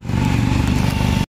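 A motorcycle engine runs close by, a loud, steady, throbbing drone that fills a brief moment and then cuts off abruptly.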